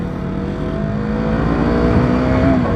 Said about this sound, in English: on a motorcycle